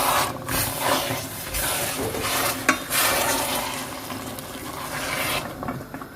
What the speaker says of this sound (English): And we just gently stir this into the sugar.